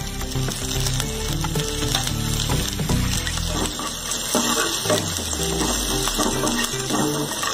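Chopped garlic and ginger fry in hot oil in a kadai, giving a loud continuous sizzle and crackle with clinking and scraping noises layered over it.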